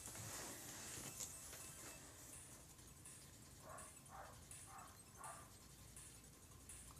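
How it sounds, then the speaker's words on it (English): Neighbor's dogs barking far off in the background, a run of about five faint, evenly spaced barks over a steady hiss in a quiet room. "Please, if you hear a dog in the background,"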